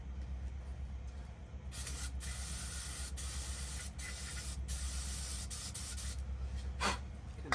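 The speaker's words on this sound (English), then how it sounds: "we'll give her a shot of brake clean" Brake cleaner is sprayed onto a generator carburetor in bursts, a loud close hiss that starts and stops several times over a low background hum.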